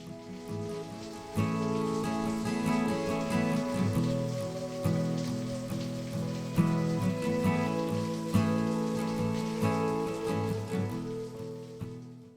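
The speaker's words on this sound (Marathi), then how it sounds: "आता पाऊस चालू झाला इथे बघू शकता, खूपच जोरात पाऊस पडतोय" Heavy rain pours steadily on a mountain trek via Ganesh Ghat to Bhimashankar. It is a dense, continuous hiss of drops with brief louder patters, and no voices.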